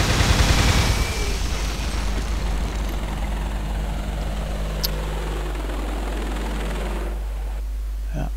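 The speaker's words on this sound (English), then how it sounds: "I'm wondering whether to use a helicopter strike on the command vehicle." Helicopter strike in the war game Close Combat Modern Tactics, a loud sustained rotor and engine roar with a burst of impacts at the start, holding steady for several seconds before cutting off.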